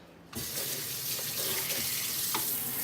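Tap water suddenly turned on and running onto dishes in a kitchen sink, a close, steady splashing rush with a brief clatter partway through.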